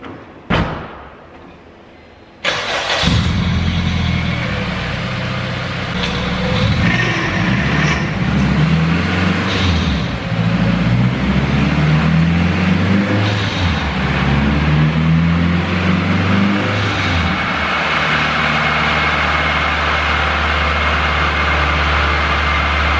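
A built turbo K20-swapped Honda Civic hatchback with 500+ hp runs on a dyno: a thud, then a loud sustained engine roar climbing and holding at high revs for about twenty seconds, close and steady.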